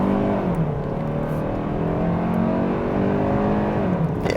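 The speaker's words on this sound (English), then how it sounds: "Ooh, good response. On the gas." A 2025 Kia K5 GT-Line accelerating hard in sport mode, heard from the cabin: a steady engine hum whose pitch climbs smoothly over a few seconds, with no talking.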